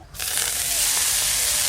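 Washed, chopped kolai greens drop into a pan of hot chilli oil with cumin, setting off a loud, steady sizzle and hiss that rises sharply after a quiet start and holds.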